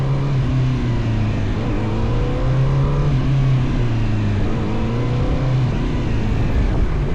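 CFmoto 500SR motorcycle engine on a test ride at a large open venue in Hangzhou, heard as a steady close drone with the pitch rising and falling as the throttle opens and closes under wind noise.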